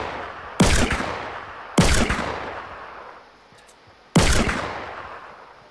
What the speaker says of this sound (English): Gonna be, yeah, there's gunfire.